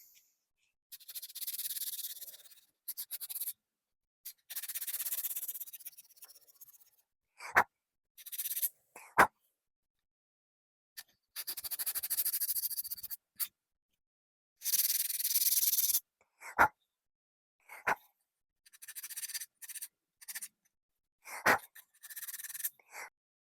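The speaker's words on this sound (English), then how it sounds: "So I'm going to hit it with some light sandpaper, see if I can get that out of there." A glued wooden guitar pick stand lightly sanded by hand with sandpaper: repeated close, dry rasping strokes in short bursts of one to two seconds, separated by silent pauses, with no talking.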